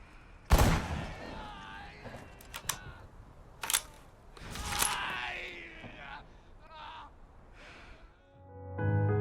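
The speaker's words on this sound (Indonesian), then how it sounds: "Dia tidak langsung menembak mati musuhnya, tapi dia sengaja menembak kaki dan tangan musuhnya agar mati dengan tersiksa." Gunfire from a war film, with several sharp, loud shots spread across the scene amid scattered gasps and other film sound, ending in a low rumbling tone.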